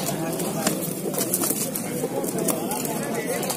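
Pigeons coo among the crowd at the Asaka pigeon bazaar, a steady outdoor market bustle where people talk over the soft, repeated calls.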